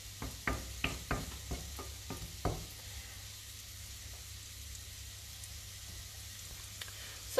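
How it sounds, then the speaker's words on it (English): Butter and olive oil fry quietly in a pan with a soft steady sizzle, while a series of sharp utensil clicks and stirring knocks come early on and then fade to a faint hiss. "mixing butter and olive oil, it's frying slower."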